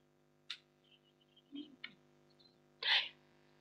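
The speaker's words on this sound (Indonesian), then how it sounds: "Aku bersin, setan keluar." A single person's sneeze bursts out near the end after a few small breathy and clicking noises, loud and close, with no talking around it.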